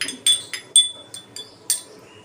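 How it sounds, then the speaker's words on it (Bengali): A spoon clinks against a bowl while honey is stirred in, giving six or seven bright, ringing taps in an uneven rhythm, close and clear with no talking. "এই যে দেখুন, আমি খুব সামান্য পরিমাণ মধু এখানে অ্যাড করছি। এটাকে ভালো করে মিশিয়ে নেব আমরা।"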